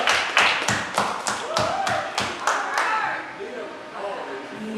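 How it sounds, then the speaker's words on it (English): Applause for a guest at a live talk show: a run of quick, evenly spaced hand claps that fade after a few seconds, with voices talking over and after them. "Give her a great round of applause."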